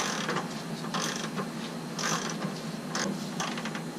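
Socket and ratchet tightening a plastic oil level sensor on a 4th-generation Firebird: repeated close mechanical clicking and ratcheting bursts over a steady background hum, no talk.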